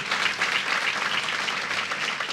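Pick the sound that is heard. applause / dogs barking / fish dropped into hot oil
applause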